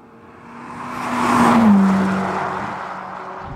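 A Ferrari Roma accelerates hard to overtake on a road, its engine note swelling from a steady drone to a loud, rising roar that peaks midway and then eases off as the pass completes.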